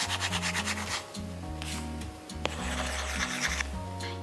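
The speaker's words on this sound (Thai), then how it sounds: "เวลาเราเขียนบน iPad มันจะฝืดเหมือนเราเขียนบนกระดาษจริงๆแล้วก็มันจะได้เสียงฟินๆแบบนี้ค่ะ" A stylus writing on an iPad Pro M4 fitted with a paper-texture glass film makes quiet, dry scratchy strokes in short bursts, with a soft rhythmic rub and a faint tick. Music plays softly underneath.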